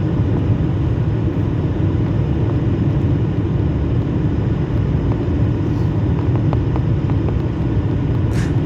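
Oman Air airliner descending to land at Trivandrum, heard from inside the cabin as a loud, steady engine roar and rumble that continues unbroken throughout.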